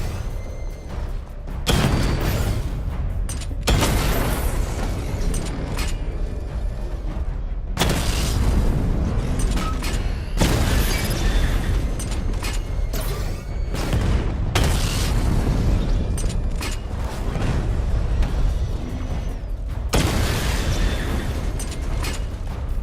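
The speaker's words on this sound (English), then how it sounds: "Charge up missile barrage to level 2 and destroy 4 active targets to complete diagnostic test." Repeated heavy explosions and booms from the Batmobile's missile barrage in Batman: Arkham Knight, loud and dense, with several bursts landing in quick succession over a continuous rumbling game soundscape.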